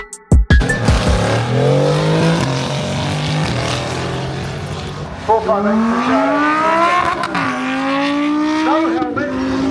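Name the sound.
Ferrari supercar engine driving past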